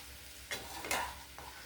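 Ivy gourd deep fries in hot oil with a faint steady sizzle, broken by two brief louder scraping stirs close by, no talking.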